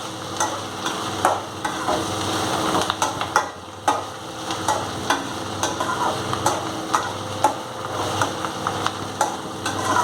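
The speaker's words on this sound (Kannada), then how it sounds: "ಹಸಿಮೆಣಸಿನಕಾಯಿ, ಈರುಳ್ಳಿ ಒಗ್ಗರಣೆ ಹಾಕಿ" Green chilli and onion tempering in hot oil with mustard seeds, curry leaves and a few peanuts, sizzling steadily at close range while a spoon stirs and scrapes the pan in repeated sharp knocks.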